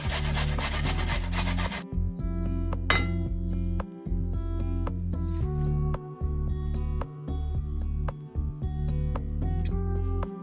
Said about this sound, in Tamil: நான் இப்போ 150 கிராம் பொட்டேட்டோ எடுத்து இப்படி ஸ்க்ரேப் பண்ணி எடுப்பேன்